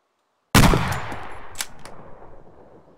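Sudden loud burst of gunfire in the military shooter ArmA 2, a sharp close report with a rattling tail and a few follow-up cracks fading out over a couple of seconds, no talk.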